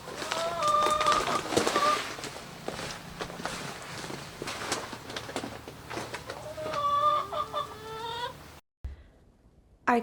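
Hens cluck and squawk in bursts across the yard while footsteps crunch nearby, with a short burst of clucking near the start and another toward the end before a brief cutoff.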